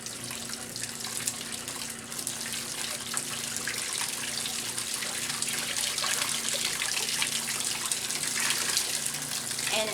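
Water runs steadily through a small washing machine loaded with soapy wash, a continuous close rushing and trickling that never pauses.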